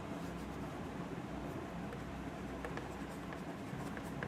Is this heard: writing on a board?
yes